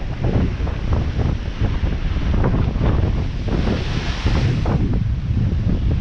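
Storm waves pound the shore by Blackpool's North Pier, their heavy wash rolling in under a constant, loud blast of wind across the microphone.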